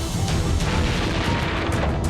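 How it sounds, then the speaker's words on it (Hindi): An explosion in Prashant Vihar, Delhi: a loud, sustained rumbling blast with dense low-end roar and scattered sharp crackles, continuing at steady volume with no voices. "दिल्ली के प्रशांत विहार इलाके में जोरदार धमाका।"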